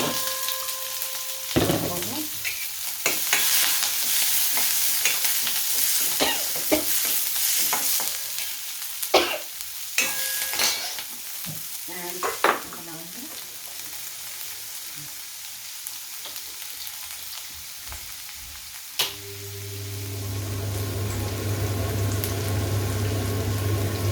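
Onion, green chili and curry leaves frying in hot oil after mustard seeds pop, a continuous sizzle broken by repeated spoon scrapes and clanks, ending in a brief gush of louder frying.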